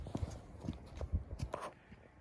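Volodymyrivska heavy draft mares make scattered, uneven hoof clops on the ground, a dozen or so soft thuds at moderate distance with no voices.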